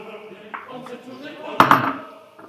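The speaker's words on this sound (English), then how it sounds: "And then the ginger. And then stir that into the meat." A spoon stirs ginger and spices into lamb in a cooking pot, with a soft scraping undertone broken by two sharp metallic clanks against the pot.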